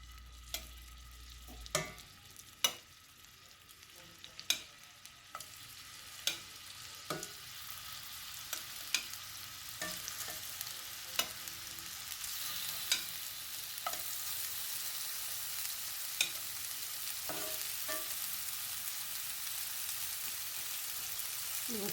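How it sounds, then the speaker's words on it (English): Pork meatballs go one by one into a hot skillet. Each lands with a soft tap, and the sizzle grows from faint to a broad steady frying hiss as the pan fills, with occasional utensil knocks. "let's get these meatballs directly into this hot skillet"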